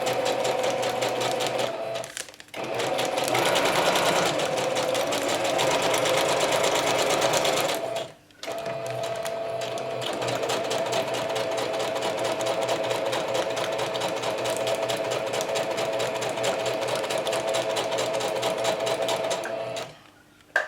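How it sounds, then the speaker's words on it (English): A sewing machine stitching around a vellum scrap pouch runs in close, rapid mechanical bursts, stopping briefly twice before resuming its steady whirring rattle. "I usually go and do a little bit more stitching around the place"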